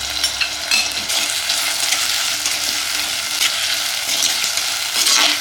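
Tomato and turmeric sautéing in a pan for a Tamil-style bean curry, a steady close sizzle and fry with light stirring scrapes running throughout, no voices.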